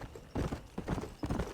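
Horse hooves clip-clop in a steady rhythm in the Red Dead Redemption video game, three distinct footfall groups close and moderately loud with no talk.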